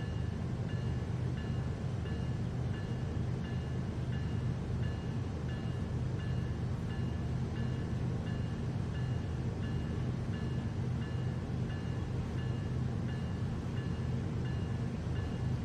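A train rolls along Cajon Pass in the Train Sim World 3 game, giving a steady, low, continuous rumble of wheels and engine at moderate volume, with no talking.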